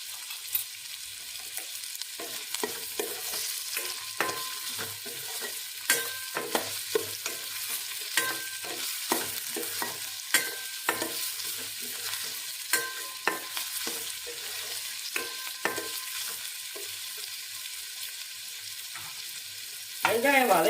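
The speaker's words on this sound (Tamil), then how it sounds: "வெங்காயம் வதங்கிடுச்சு." Onions sautéing in a pan for bitter gourd kulambu, a steady sizzle broken by frequent scrape-and-stir strokes of a spoon against the pan, close and moderately loud with no talking.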